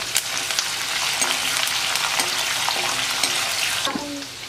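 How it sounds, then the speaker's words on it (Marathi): Curry leaves and green chillies fry in hot oil with a steady, dense sizzle, while a spatula scrapes and stirs the pan now and then. "कढीपत्ता घातल्याच्या नंतर आपण सात ते आठ हिरव्या मिरच्या घालणार आहोत। हे चांगलं परतून घ्यायचंय।"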